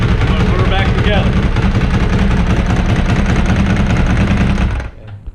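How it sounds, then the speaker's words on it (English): A Ducati 749 motorcycle engine runs loud and close, with a steady low throbbing idle and no voice over it, then cuts off abruptly near the end. "Now that the Ducati runs"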